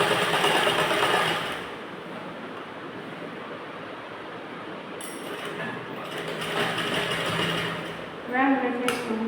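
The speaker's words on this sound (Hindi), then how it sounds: "सिलाई करते हुए लाइन कंप्लीट हो जाएगी।" Sewing machine stitching a blouse, a steady mechanical whir running through most of the stretch, fairly quiet, with a pause and some light handling near the end; a voice speaks over parts of it.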